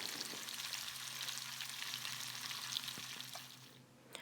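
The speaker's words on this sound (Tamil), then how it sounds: "நல்லா கொதித்த எண்ணெயில் பொரிக்கிறேன்" Hot oil sizzles and crackles steadily as food deep-fries, a dense bubbling hiss with occasional pops and no voices.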